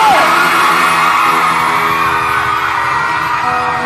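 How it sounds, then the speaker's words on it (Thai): Concert crowd at a live show at Eighteen Nineteen screaming and yelling together, a loud sustained roar of cheering that holds steady before easing slightly toward the end. "ใครอยากให้ผลิตมาส่งเสียงกรี๊ดนะจเด้อ"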